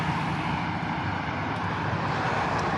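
A Superhuman Photon e-bike rides on throttle only, a steady, even whir and rush of wind and road noise with no breaks.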